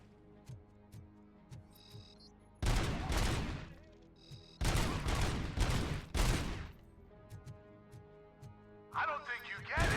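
M82 Barrett anti-materiel rifle fire in the Robocop game comes in two loud, dense bursts of heavy shots, separated by quieter stretches of ticking game sounds, with another burst near the end.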